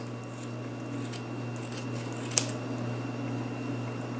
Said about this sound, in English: Snip, snip, snip, cut all of the loops.